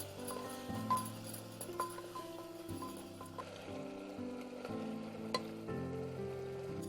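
Coriander and turmeric frying in oil in a pot, a low continuous sizzle with occasional spoon clinks and stirring taps, fairly quiet with a steady hum underneath.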